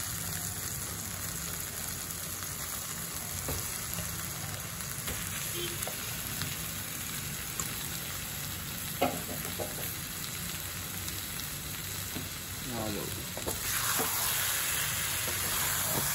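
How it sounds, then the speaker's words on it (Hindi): Chicken frying with spices in a pan for homemade chicken curry, a constant crackling sizzle that runs close and steady, with occasional stirring scrapes and a brief louder hiss toward the end. "चिकन को करेंगे मसाले के साथ फ्राई"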